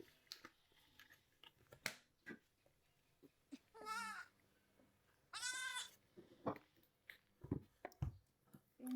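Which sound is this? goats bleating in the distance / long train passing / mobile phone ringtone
goats bleating in the distance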